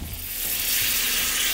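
Masala spices being sautéed in a pan for dal, a steady close hiss and sizzle holding evenly throughout.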